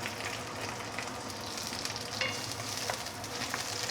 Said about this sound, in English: Once the wok is heated up, we can put in the ginger and half of the spring onion.